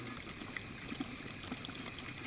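Water running and trickling steadily into a shaving brush, a continuous close watery wash with small splashes and no voices.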